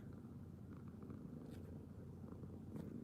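A soft, steady cat purr rumbles continuously at low pitch, close and quiet, with no voices over it.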